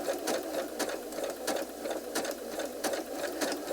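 Sewing machine stitching a stem onto a crochet tote bag, a close, fast, even mechanical whir-clatter running steadily throughout with no talking.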